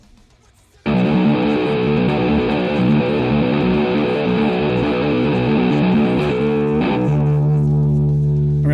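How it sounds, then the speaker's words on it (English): Guitar through a Mixwave Benson Germanium fuzz pedal plugin, a thick buzzing fuzzed chord starting abruptly after a brief quiet lead-in, held loud and steady before shifting to a new note near the end. "I'm going to go to the Mixwave Benson Germanium."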